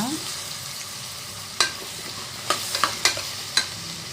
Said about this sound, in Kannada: ಇವಾಗ ತರಕಾರಿ ಎಲ್ಲ ಫ್ರೈ ಆಗಿದೆ ಸೊಪ್ಪೆಲ್ಲ ಹಾಕೊಂಡು ಫ್ರೈ ಮಾಡ್ಕೊಳ್ಳೋಣ